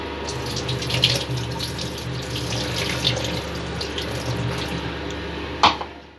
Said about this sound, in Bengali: সবজিগুলো আমি ভালো করে ধুয়ে নেব।